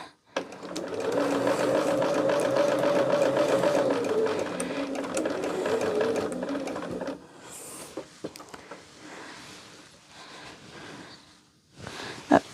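A sewing machine stitches a seam in a fast, even whirring run of about seven seconds, then stops, leaving quiet handling clicks and rustles of fabric close by.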